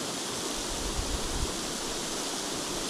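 Rushing broadband roar of Skakavac waterfall near Rajvosa in Bosnia and Herzegovina, heard close and steady with no talk, a loud continuous wash of falling water.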